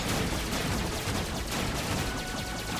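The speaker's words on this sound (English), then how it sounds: "Shooting through the asteroids here." A gummi ship in Kingdom Hearts fires its blasters in a rapid, steady stream of shots while it flies through asteroids, dense and continuous over a loud game background.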